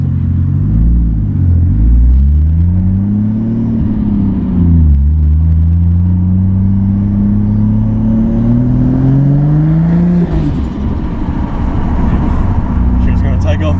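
A Ford FG XR6 Turbo engine revs on a dyno, its tone dipping and then climbing steadily in a long loud pull with a rumbling drone, before the revs drop off into a whooshing decay.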